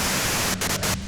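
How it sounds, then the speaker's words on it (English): Broadband white-noise static from the Disco Elysium video game, a steady hiss that fills the clip and drops out in brief gaps near the end. "If you've got something really important to say, you can do it through the white noise."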